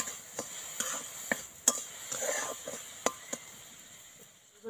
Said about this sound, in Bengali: দিয়ে এবার চিনিটা একটু নেড়ে নেবো।